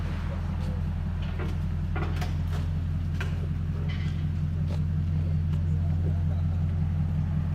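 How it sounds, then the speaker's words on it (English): Toyota Tundra with a 5.7L V8 and Super 10 mufflers idles with a steady, deep exhaust rumble, heavy low drone throughout, with faint voices and light clicks over it. "The Super 10s never disappoint."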